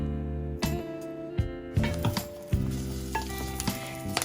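Dried peppers sear in a hot, oil-free pan, crackling and hissing in short bursts with a few sharp pops and pan contacts over a steady tonal background.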